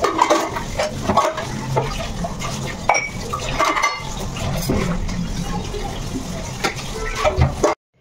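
Steel tea pots, cups and utensils are washed under water in a home kitchen, with continuous splashing and trickling mixed with close clinks and clatters of metal dishes for about eight seconds, ending abruptly.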